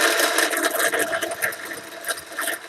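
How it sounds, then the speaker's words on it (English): A sewing machine runs steadily while winding thread onto its bobbin, a continuous close whirring hum with slight fluctuations and no pauses. "now let's fill our bobbin"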